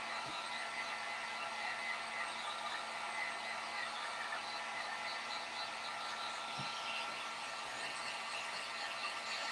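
A heat gun blows steadily on a wooden candy corn with a clear sticky finish, a constant, even airy hiss holding at the same level throughout with no talk.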